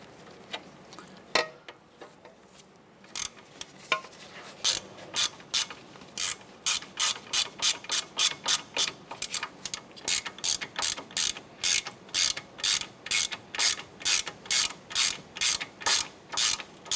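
A ratchet snugs bolts down on a 2008-2012 Honda Accord during a lower ball joint replacement, starting with scattered clicks and settling into a long, steady run of rapid rhythmic ratcheting strokes, close and crisp.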